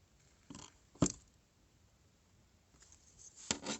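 A V tool carving wood on a tall Santa figure with boots: a few short, quiet scraping cuts, separated by pauses of near silence, close up.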